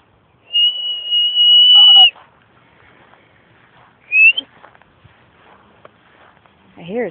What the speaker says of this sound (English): Just whistling to him.